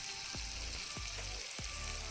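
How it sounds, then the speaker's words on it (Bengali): Ginger garlic paste and Kashmiri chilli powder sizzle steadily in hot oil, with three soft, low stirring strokes at regular intervals through the continuous close frying hiss. "খানিকটা পরিমাণ তেল গরম করে তাতে আদা রসুনের পেস্ট আর কাশ্মীরি লঙ্কা গুঁড়ো দিয়ে ভালো করে ভেজে নিতে হবে।"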